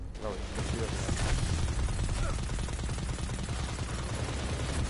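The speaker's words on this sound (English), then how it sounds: "Like that Gatling gun." A Gatling gun fires in Destiny 2, a steady rapid rattle of shots held loud and unbroken for several seconds, with a voice talking over it.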